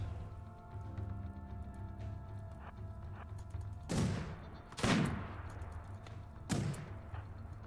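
Machine gun fire in the video game RimWorld during a colony defense: three distinct sharp bursts ring out over a steady low background hum, fairly loud against quiet surroundings, with no talk.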